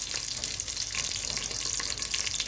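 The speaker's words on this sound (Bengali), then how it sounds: "এই যে শুকনো মরিচ তেজপাতা একসঙ্গে দিলাইলাম" Dried red chillies and bay leaves spit and sizzle in hot oil in a pan for khichuri, a steady dense crackling hiss that runs loud and close throughout with no voices.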